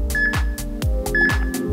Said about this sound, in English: It's going to give you 3 warning beeps towards the end of your work set and your rest set